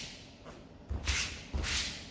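Two quick airy swishes from judo foot sweeps practised at home, each a short broadband whoosh with a soft low thud, spaced about two-thirds of a second apart, close and fairly loud with no talking.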